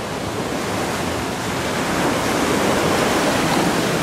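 Sea waves wash continuously onto the shore along the Galle Face seafront in Colombo, Sri Lanka, a steady broad roar of surf close by with no voices.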